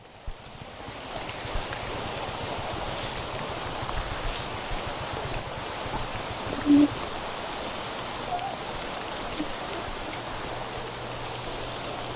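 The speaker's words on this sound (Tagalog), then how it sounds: "lumalakas na yung ulan." Heavy rain pours down in a steady, dense hiss that fills the whole stretch, a continuous outdoor downpour with a brief faint blip partway through.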